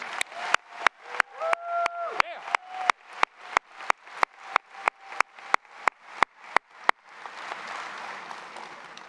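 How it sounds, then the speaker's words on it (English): A graduation ceremony audience breaks into a swelling round of applause, a dense wash of many hands clapping at once that follows a series of sharp, regular clicks overlaid with a faint sweeping tone. "give all of our recipients of the Oregon State Seal of Biliteracy one last round of applause"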